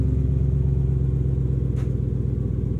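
A Ford F-150 Raptor R sits idling after a remote start, its engine giving a deep, steady, thunderous rumble with a regular pulsing beat, close by and alone.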